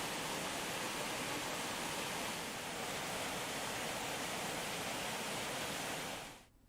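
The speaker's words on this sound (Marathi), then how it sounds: "मुसळधार पावसामुळे मुंबईकरांना पाणी पुरवठा करणाऱ्या 7 तलावांपैकी तुळशी तलाव ओसंडून वाहू लागलेला आहे." Tulsi Lake, one of Mumbai's water-supply reservoirs, overflows after torrential rain. Water rushes in a dense, steady roar that stays constant throughout and fades out at the very end. No voices are heard.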